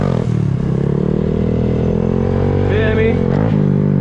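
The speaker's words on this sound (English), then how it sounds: "You wanna listen to the bike." A motorcycle engine runs loud and close with a steady, rumbling drone, its pitch shifting slightly as the throttle eases partway through.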